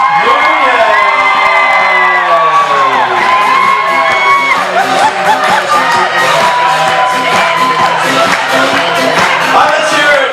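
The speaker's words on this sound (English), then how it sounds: "how about a round of applause for Jonathan and Michael Mascalco and Olivia Nunez" Wedding guests cheer, whoop and shout loudly at a reception, with many voices overlapping in a continuous crowd roar and applause blended underneath.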